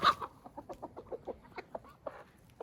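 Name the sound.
chickens clucking among ducks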